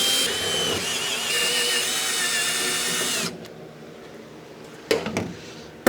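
A powered driver fitted with a 10 millimeter socket drives screws into a DWC1 assembly, giving a close, steady whine for about three seconds, then quiet broken by a couple of sharp clicks.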